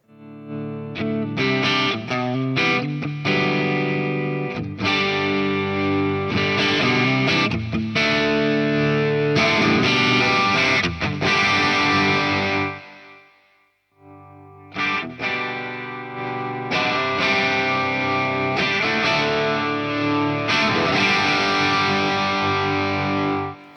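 Electric guitar played through a Hotone Ampero II Stomp multi-effects unit with a volume pedal, giving a dense, distorted sustained tone that cuts out briefly near the middle and then returns at full level, with no talking.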